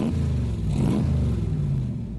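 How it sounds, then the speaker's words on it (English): A gasoline internal combustion engine revs steadily at close range, a deep continuous rumble that swells briefly near the middle before settling back to a constant drone. "The internal combustion engine."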